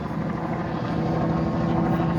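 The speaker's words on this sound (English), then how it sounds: "Got another helicopter up in the sky there." A police helicopter's steady rotor thrum and engine drone fill the clip, constant and fairly loud overhead, above a crash scene in Boston.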